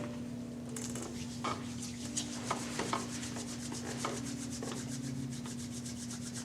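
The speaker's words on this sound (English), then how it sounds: "let's bring our hands together, rubbing them rather vigorously" Two hands rub together vigorously in a rapid, steady swishing rhythm, close and soft, over a low constant hum, with no talking.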